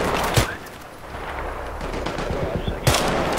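Gunfire in the video game Battlefield 3 during a co-op mission, with two sharp loud shots about two and a half seconds apart over continuous game noise and no talk.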